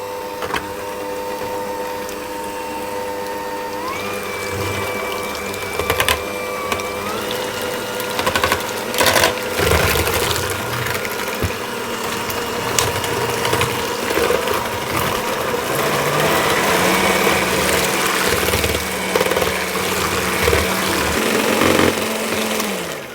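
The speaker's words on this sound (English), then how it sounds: "I'm going to whisk those with my hand mixer" Electric hand mixer whisking eggs for a small coconut bundt cake until pale and fluffy: a steady, close motor whine with shifting pitch as speed changes, plus rattling beaters knocking against the bowl, continuous and loud with no talk.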